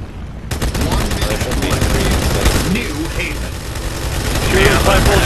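Rapid gunfire rattles through a Halo 2 custom game match on a Death Star assault map, loud bursts of automatic weapon fire over excited players shouting to each other.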